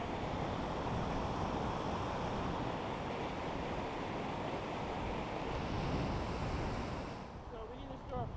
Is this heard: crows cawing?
no